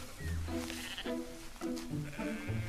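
Grazing sheep bleat again and again in a flock: overlapping, wavering calls, some deep and some higher, come in a steady run at close to middle distance over soft outdoor background noise.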